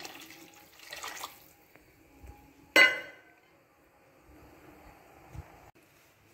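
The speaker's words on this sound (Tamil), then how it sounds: "போதுமான தண்ணியை ஊற்றிக்கிங்க" Water poured into a pot of jackfruit seed and pomfret fish gravy (palakottai vavval meen kuzhambu) with tamarind juice, a soft, fairly quiet splash and trickle with a brief clink, no talking.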